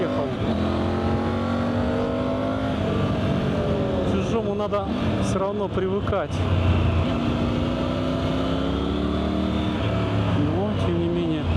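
A Triumph Tiger 900 GT three-cylinder motorcycle engine running nearby, a steady idle hum with brief revs, under someone talking.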